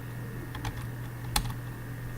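Light keystrokes on a computer keyboard while typing code, a few soft scattered clicks with one sharper tap, faint over a steady low hum, with no talk.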